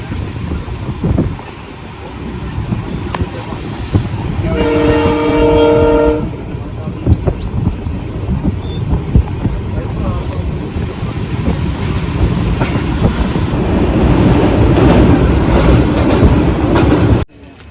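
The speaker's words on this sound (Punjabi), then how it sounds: "ਆ ਟ੍ਰੇਨ ਆ ਜੀ ਜਿਹੜੀ ਸਾਨੂੰ ਗੰਗਾ ਨਗਰ ਤੋਂ ਰਿਸ਼ੀਕੇਸ਼ ਤੱਕ ਆਉਂਦੀ ਆ" A passenger train from Ganganagar to Rishikesh rumbles loudly along the rails close by, with a brief horn blast early on over the steady clatter and rush of wind.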